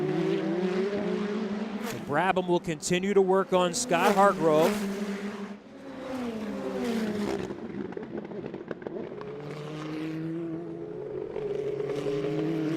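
Indy Lights race cars at the St. Petersburg street circuit, engines whining and revving as they pass and fade, with a burst of loud gear-shifting engine notes in the middle, all under steady race commentary.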